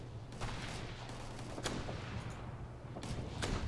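Gunfire in the military shooter Operation Flashpoint: Red River, with several sharp shots spaced across a steady game ambience and low hum, the last pair close together and fairly loud.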